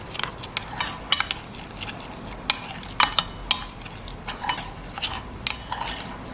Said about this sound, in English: And you have to keep stirring it, because otherwise it'll cling to the bottom.